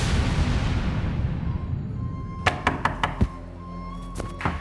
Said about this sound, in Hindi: क्यों दरवाजा पीट रहे हो?